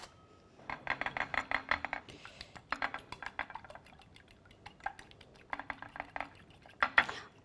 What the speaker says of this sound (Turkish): Şöyle hemen Yumurtamı güzelce çırpayım.